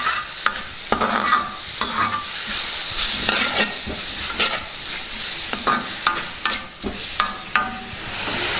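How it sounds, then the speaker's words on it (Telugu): A spoon stirs a beetroot rice mixture in a frying pan, repeatedly scraping and clinking against the metal over a soft, steady sizzle, close and fairly loud. "ఒకసారి బాగా కలుపుకుందాం."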